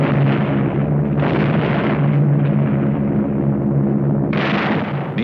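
RAF bombers attack enemy positions in the Ngakyedauk Pass, Burma, during the Second World War, on scratchy archival film: loud, continuous rumbling blasts with low booming swells and bursts, one sharp surge near the end.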